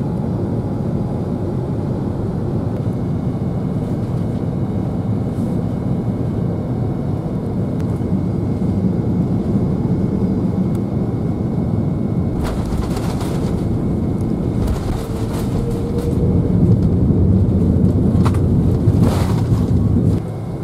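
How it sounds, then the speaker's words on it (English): Brussels Airlines Airbus A330-300 descending with landing gear down, heard from the cabin as a steady loud broadband roar throughout, swelling slightly louder near the end with a few brief rattling bursts. "The captain has begun his descent. We have wheels down."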